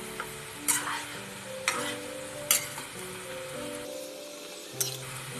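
Namkeen frying in hot oil, with a steady sizzle and bubbling under several sharp scrapes and clinks of a stirring spoon against the pan at irregular intervals.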